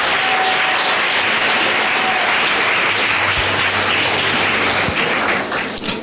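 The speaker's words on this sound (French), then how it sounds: "just give the Lord a big clap of praise" A church congregation claps together in praise at a bilingual French and English service, a dense, steady roar of applause filling the room from start to finish with no voices rising above it.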